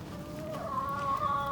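Chickens cluck around a backyard chicken coop in a desert garden, a close, continuous run of overlapping clucks and fowl calls with no talking.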